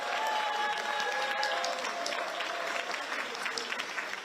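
An audience applauds at the opening of a National Assembly lawmakers' workshop. Dense clapping from a sizable crowd fills the room and holds steady throughout.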